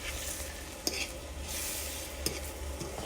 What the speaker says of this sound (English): Oh, this egg might burn.